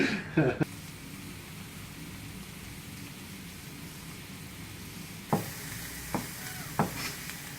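Onions and garlic fry in butter in a pan with a soft, steady sizzle, and several distinct clicks and scrapes of stirring come toward the end.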